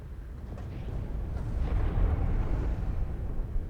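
A bomb blast in the space game, aboard the Idris ship, comes as a low, rolling rumble that swells and lingers for several seconds without any voice over it.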